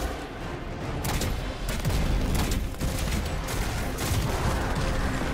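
Rapid gunfire and explosive bursts from Destiny 2, including a grenade launcher, come as dense, loud repeated shots and booms in close succession, with no voices over them.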